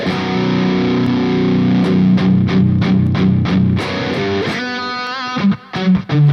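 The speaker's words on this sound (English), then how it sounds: "if I was to chug on a chord" Heavily distorted electric guitar, a Kiesel, chugs a palm-muted chord in a fast, steady rhythm, loud and close, then lets a ringing chord sustain before a few more stabs.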